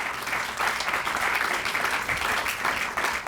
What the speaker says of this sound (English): Please applaud for that,